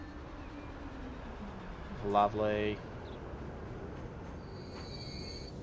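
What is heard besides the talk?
passenger train arriving at a station in the video game Transport Fever 2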